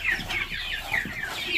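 Chickens on a Vietnamese farm cluck in quick repeated bursts, fairly close and steady throughout, with no talk over them.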